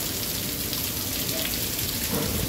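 Heavy rain falls over Mecca, Saudi Arabia, a dense, steady hiss of drops hitting surfaces, loud and continuous throughout.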